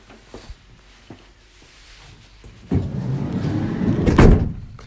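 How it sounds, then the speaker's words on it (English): The sliding side door of a Vauxhall Movano workshop van rolls shut with a rumbling slide that ends in a heavy thud, close by and following a few faint knocks. "Close this door"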